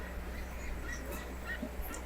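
Broiler ducks quack faintly at a distance over a steady low background hum.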